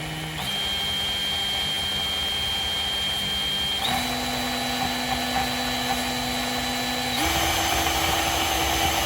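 A variable-speed rotary power tool, stronger than a Dremel, whines steadily at close range and steps up to a higher pitch twice, getting slightly louder with each speed change.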